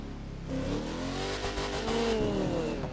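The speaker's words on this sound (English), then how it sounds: "I really like the Murcielago. Mostly for the engine sound." A Lamborghini Murcielago V12 in a video game revs up with rising and falling engine tones, loud and close, and the revving continues throughout with no voices.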